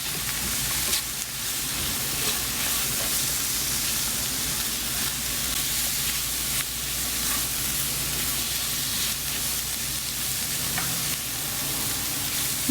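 Kerala prawn roast frying in a pan crackles and sizzles steadily while being stirred, with occasional scraping and clinks of the spoon throughout.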